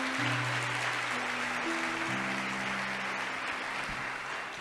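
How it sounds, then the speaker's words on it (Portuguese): A church congregation at a 2022 conference in Rio de Janeiro claps in a steady, dense burst of applause that holds throughout, with sustained low musical tones running underneath. "Aplauda Jesus se você concorda"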